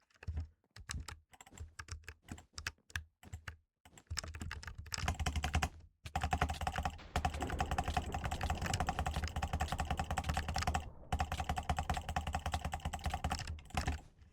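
Fingers type on a scissor-switch computer keyboard, first in scattered short bursts of clicky keystrokes, then in fast continuous typing that runs on with only brief pauses.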